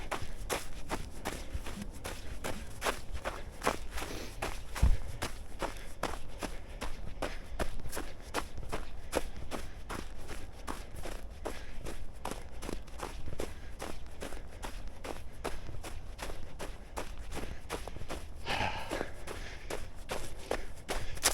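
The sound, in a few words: footsteps on the ground during a night winter trail run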